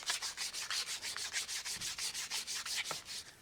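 Fine 220-grit sandpaper rubbed back and forth over the rough flesh side of a tooled leather belt, a steady rhythm of about fifteen close, crisp scratchy strokes with no talking.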